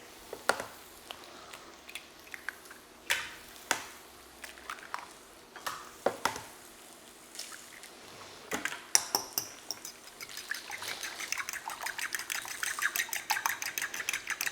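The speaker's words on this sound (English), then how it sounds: "So cracking our eggs into the bowl." Eggs cracked one after another into a mixing bowl in a home kitchen, sharp shell taps and clicks at a steady pace, then wet squishy sloshing and clinks of utensils against the bowl.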